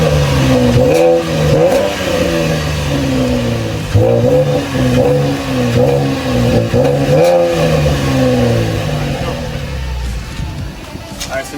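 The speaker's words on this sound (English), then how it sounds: "All right, now let's give it some revs." Manual Chevrolet Camaro revved repeatedly from the rear exhaust, each loud rising rev followed by a drop back, in a rhythmic series of about half a dozen blips before easing off.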